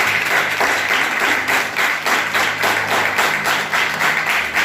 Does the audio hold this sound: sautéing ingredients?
no